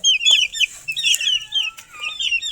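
A native chicken clucks in short, close, fairly loud bursts, with brief pauses between the calls.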